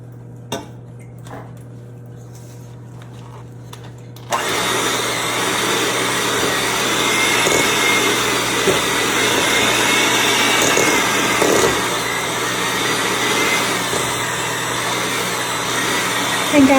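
Electric mixer blending pimento cheese in a bowl, switching on after a few seconds of quiet and then whirring loudly and steadily with small clinks against the bowl, no speech heard.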